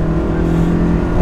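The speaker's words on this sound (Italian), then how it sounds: "Il motore, Matteo, è originale." Toyota AE86 with its original engine revving steadily, a loud, close, continuous mechanical drone that holds its pitch with no talk over it.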